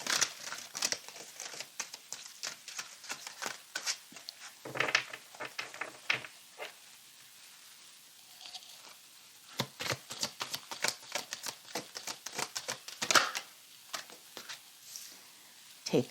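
Tarot cards being shuffled in a run of quick crisp riffles and soft slaps, with short pauses between bursts and one sharper snap near the end, close and fairly quiet, no talking.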